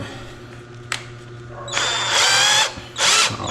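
A power drill bores a hole with a drill bit, starting with a brief click, then two loud sustained whining bursts of the motor separated by a short pause, close and with no talk.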